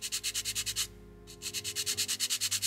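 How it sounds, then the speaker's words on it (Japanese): Rhythmic strokes of sandpaper on hardened putty on the hood of an Isuzu Piazza plastic scale model car, a steady back-and-forth rasp with a brief pause midway, close and fairly quiet. "パテが硬化したので削ります。"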